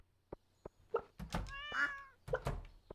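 A pixel-art cat in Stardew Valley meows once clearly in the middle, framed by soft game thunks and plops before and after; no one talks.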